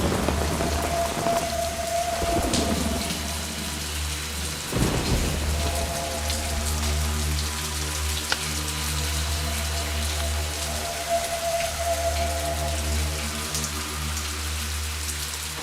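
Heavy rain pours steadily while thunder rumbles low and long, with a sharper crack near the middle, no voices present.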